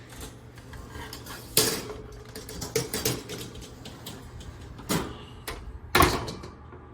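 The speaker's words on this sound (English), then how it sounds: "Now we're gonna pop them in the preheated oven" A baking tray of einkorn flour biscuits slid into a preheated oven, with metallic clanks and scrapes of the tray and rack, sharp knocks at intervals and quiet handling between.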